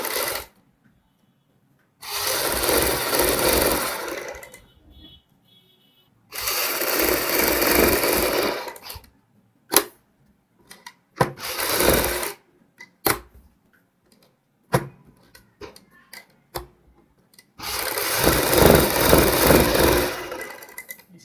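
A sewing machine stitches a neckline in three loud, close bursts of steady whirring, with clicks and handling noises in the pauses between them.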